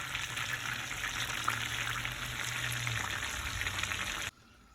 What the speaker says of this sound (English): I have my butter over here doing this thing, getting melted